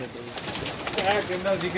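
Domestic pigeons coo softly in a loft, a few low rounded calls rising over steady background noise, with someone talking nearby.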